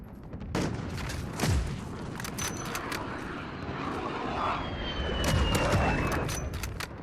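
Gunfire in the Call of Duty Modern Warfare beta video game, scattered sharp cracks and bursts over a rumbling battlefield with aircraft drone overhead, moderately loud and without clear speech.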